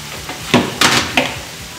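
Cauliflower goes into a hot, sizzling pan for a vegan cauliflower curry, giving three short, close bursts of sizzling and spattering over a quiet background.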